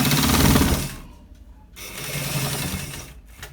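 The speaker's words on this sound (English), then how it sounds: "So guys, we are stitching it to the down part" A sewing machine stitching a shawl collar, a close, loud rapid mechanical whirr that runs, pauses briefly, then resumes before stopping again.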